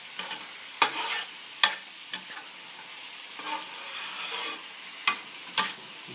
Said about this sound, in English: I'm breaking up the pieces of the two meats